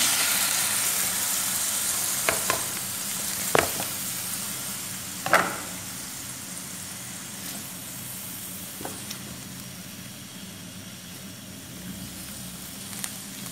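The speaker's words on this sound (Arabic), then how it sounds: "اول حاجه عندي الطاسه مسخنه كويس، هنزل فيها الاول بالدهون بتاعت الكلاوي دي." Beef kidney fat sizzles in a well-heated pan with ghee and oil, a continuous bright frying hiss with a few sharp pops and spatters scattered through it, close and fairly loud, no talking.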